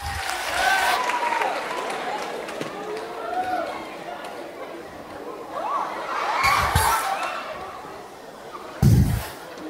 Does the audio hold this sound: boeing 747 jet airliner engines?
no